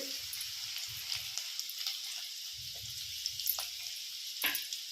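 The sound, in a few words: fennel and chopped garlic frying in oil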